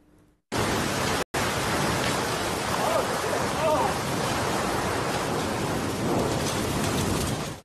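Heavy rain with thunder during a storm in the United States, a dense steady roar of downpour close by with a brief cut near the start and no talking.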